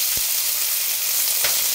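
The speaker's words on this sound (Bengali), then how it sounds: "এরপরে আমি পেঁয়াজ কুচি দিয়ে দিচ্ছি।" Chopped onions sizzling in hot oil with ginger and garlic, a steady close frying hiss throughout with a couple of brief stirring knocks.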